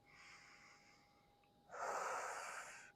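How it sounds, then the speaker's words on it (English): Deep yoga breaths during a hatha flow practice: a softer breath drawn in, then a louder, rushing exhale near the end, close and alone with no talking. "Let's take a few more deep breaths in."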